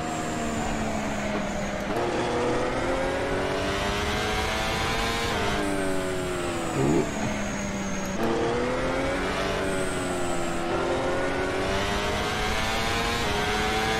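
A Ferrari F1 car at around 280 km/h on the Mugello Circuit: a high, sustained engine whine with rising pitch through the gears and sharp drops at upshifts, loud and close, with no talking.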